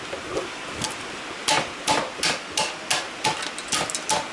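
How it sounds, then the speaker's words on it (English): Repeated hammer taps on wooden boards for a horse stall door, sharp knocks coming in an uneven series over a steady background hum. "I'm going to take the hammer and I'm going to tap on these."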